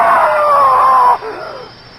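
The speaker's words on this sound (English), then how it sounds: "I screamed so loudly there was blood in my throat." A woman screams loudly in a sustained, high piercing cry that cuts off abruptly, followed by a faint wavering trailing sound.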